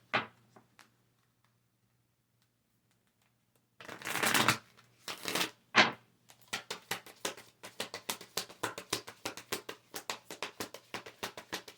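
Kali oracle cards are handled and shuffled close by: a few soft taps, then bursts of riffling, then a long run of quick, rhythmic flicking, with no talking.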